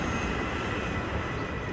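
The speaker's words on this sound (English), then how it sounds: "A flash of silver streaks across the sky, a plane roars overhead and leaves a clean contrail in its wake." A plane roaring overhead in the Love and Deepspace game, a steady, dense engine roar that holds at constant loudness through the short stretch.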